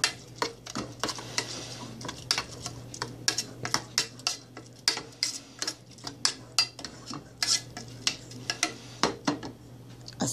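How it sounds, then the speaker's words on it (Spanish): A spoon scrapes and clinks against a pot of rice on the stove, repeated sharp metallic taps and scrapes in an uneven rhythm over a steady low hum, close and fairly loud, with no talking. "Le voy a ponerle el arroz y lo voy a mover todo."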